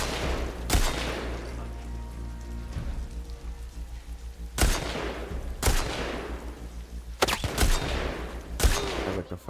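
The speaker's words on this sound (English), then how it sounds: "Somebody shot." Gunfire in The Last of Us Part II, several loud cracking shots at irregular intervals over a constant rain-like rushing background, with one pair of shots landing close together near the end.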